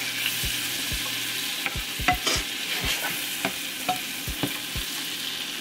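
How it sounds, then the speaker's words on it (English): Shrimp searing in a hot pan, with a steady crackling sizzle cut by a dozen sharp knocks and scrapes of a utensil moving them around. "This one needs to get a little sear on them."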